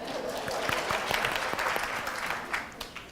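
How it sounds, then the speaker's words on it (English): A room of people claps for a participant at a midwifery talk, brisk dense applause with some individual claps standing out and a faint voice beneath. "So give her a round of applause."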